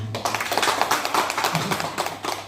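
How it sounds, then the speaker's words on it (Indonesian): Dense, continuous clapping from an audience at a presentation event, many hands close by in a lively, sustained round of applause lasting a couple of seconds. "Jadi marilah kita sekali lagi memberikan aplaus untuk yang terakhir kali."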